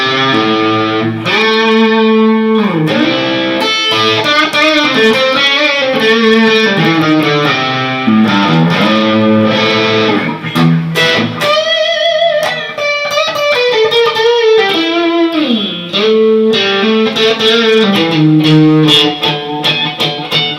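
A Harley Benton Fusion-II HSH electric guitar with a roasted neck plays through its neck pickup into a distorted 5153 amp with reverb. Sustained chords and melodic runs ring out loud and continuous for about twenty seconds.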